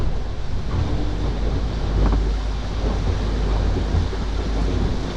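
Wind and squalls buffet an offshore racing sailboat during the SAS 2024 solo race, a steady loud roar of gusts and rushing water across the hull, constant throughout with a few heavier surges and no voices.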